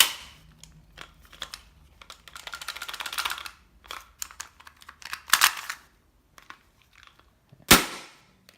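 A Spartan Airsoft Glock 17 CO2 pistol fires BBs in sharp, snappy cracks, a scattered string of shots with irregular gaps and a few bursts in quick succession, ending on one loud, crisp report.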